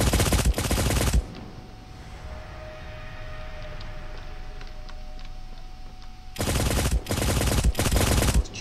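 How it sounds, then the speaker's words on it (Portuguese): Two loud bursts of rapid automatic gunfire in the video game Cyber Hunter, one at the start and one near the end, separated by a quieter stretch of low ambient hum. "Os tiros tão bem perto, cara."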